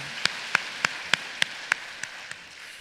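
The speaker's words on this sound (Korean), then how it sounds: "우리 하나님께 영광의 박수를 돌립니다." A church congregation clapping in unison: about eight crisp, evenly spaced claps in a steady rhythm, growing fainter toward the end.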